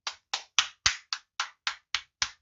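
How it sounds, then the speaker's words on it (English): Applause for the men at a Father's Day weekend gathering: nine crisp hand claps in a steady, even rhythm, each sharp and close, with no voices between them. "Can I get a round of applause for the men?"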